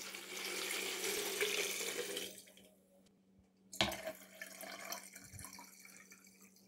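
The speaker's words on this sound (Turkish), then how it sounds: "Üzerine içme suyu dolduruyorum." Drinking water pours into a plastic jug for homemade Adana-style şalgam, a steady rushing stream for about two seconds that stops, then softer trickles and a brief clunk follow.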